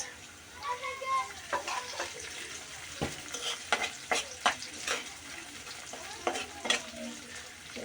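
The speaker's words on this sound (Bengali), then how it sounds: "পেঁয়াজটা অনেকখানি ভাজা ভাজা হয়ে গেছে দিয়ে দিচ্ছি আমি চিংড়ি মাছ" Prawns and onions sizzle and fry in a pan while a utensil stirs and scrapes at intervals, the frying steady underneath.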